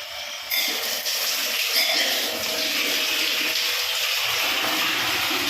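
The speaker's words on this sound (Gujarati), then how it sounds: "એ ચાલુ કરી દઈએ પાણી" Water gushes from a tap into a rooftop tank once the motor runs, starting abruptly and then flowing as a steady loud rushing splash that continues without a break.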